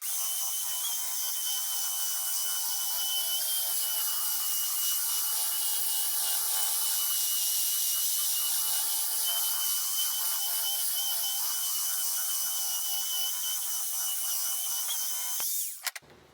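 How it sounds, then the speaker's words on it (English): A Makita sander grinds across a live edge board with 80 grit paper, a steady, loud, hissing whir running unbroken and close before cutting off abruptly at the end. "that's the first sand with the 80 grit"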